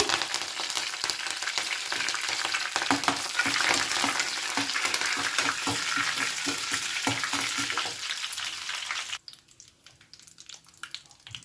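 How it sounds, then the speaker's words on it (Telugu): Fresh curry leaves crackle and sizzle hard in hot tempering oil for a cucumber and green chilli chutney. The dense, loud frying hiss runs steadily for about nine seconds, then drops to a much quieter simmer. "పచ్చికరివేపాకు వేస్తున్నాను"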